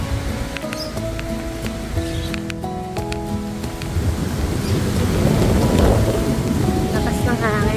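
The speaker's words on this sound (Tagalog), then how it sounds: "Lakas ng hangin." Strong wind gusts across a mountaintop private resort, roaring and buffeting the microphone. It swells louder through the second half, with faint steady tones underneath earlier on.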